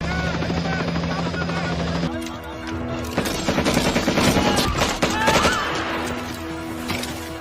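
Heavy gunfire in a Vietnam war film battle, with loud bursts and cracks over a constant low rumble like a helicopter, close and intense, with a few indistinct voices mixed in.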